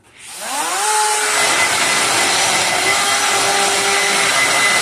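A power drill spins up and its bit bores into aluminum lubricated with drill wax, a whine rising quickly to a loud, steady grinding hiss that holds close and continuous with faint tonal squeals.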